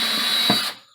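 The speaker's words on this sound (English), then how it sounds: "The nice thing about this drill bit is it clears out the plastic." A power drill bores a hole through a plastic litter pan, giving a loud, steady whine that cuts off abruptly about three quarters of a second in, leaving quiet.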